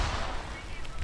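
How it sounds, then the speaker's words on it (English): A grenade goes off during a WW1-era Arma 3 battle, a loud, dense burst of blast noise with gunfire-like crackle that fills the moment and then trails off. "A grenade exploded right behind him"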